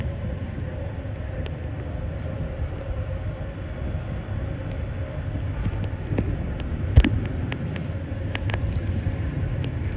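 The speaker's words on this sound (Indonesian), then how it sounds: "stasiun Kediri ini juga termasuk stasiun yang besar di Jawa Timur" A train sits at the platform of Kediri railway station in East Java, giving a steady low rumble with wind noise and occasional faint metallic clanks and squeaks, one sharper knock midway.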